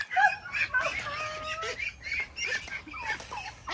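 Young ducks being chased for capture in a pen make excited quacking and peeping calls, close and busy, with some rustling and faint voices in the background.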